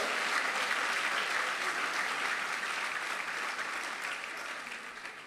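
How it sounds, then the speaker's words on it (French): A church congregation in Ebolowa, Cameroon claps hands loudly, a dense continuous roar of applause that holds steady throughout and eases slightly near the end. "Then clap your hands for Jesus."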